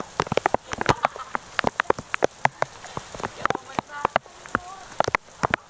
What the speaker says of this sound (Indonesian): Oke, di sini keadaannya masih hujan.